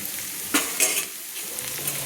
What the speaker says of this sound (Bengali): গুঁড়ো মশলাগুলো দিয়ে আমি কিন্তু এইভাবে তেলের মধ্যে একটু কষিয়ে নিচ্ছি।